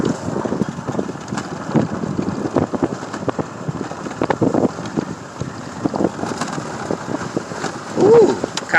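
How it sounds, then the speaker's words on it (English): Wind gusts buffet the microphone outdoors at a shooting range, a loud, uneven rumble with irregular thumps throughout and a brief voiced sound near the end. "It's kind of a little bit windy out here too"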